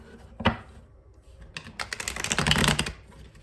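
A stiff deck of oracle cards gets shuffled up close: a sharp single snap, then a dense burst of rapid flicking clicks that builds over about a second before stopping.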